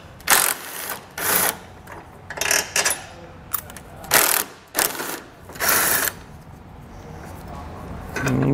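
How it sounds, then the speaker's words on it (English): A ratchet wrench with an 18 mm socket clicks in short, repeated bursts while loosening tow hook bolts on a 2022 Chevrolet, each run of clicking close and fairly clear with brief pauses between. "So with an 18 millimeter wrench and socket,"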